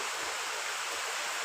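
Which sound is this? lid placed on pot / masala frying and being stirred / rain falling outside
rain falling outside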